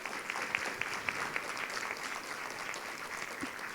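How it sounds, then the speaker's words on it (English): Applause from the audience at a parents' council presentation on stress, a fairly quiet, even patter of clapping heard from some distance that continues throughout. "another round of applause for this awesome presentation"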